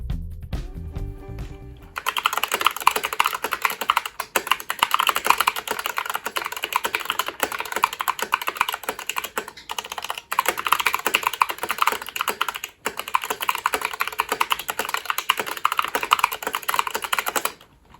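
Steady, fast typing on an Epomaker Skyloong SK64 mechanical keyboard with Gateron Optical Yellow switches and PBT keycaps, close up, with dense clacky keystrokes continuing for about fifteen seconds after a brief quiet start.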